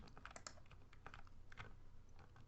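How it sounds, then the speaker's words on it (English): A computer keyboard's cursor keys are pressed in quick, irregular clicks and taps, close and fairly quiet, with no talking. "In Unity though, you can also use your cursor keys like the up key"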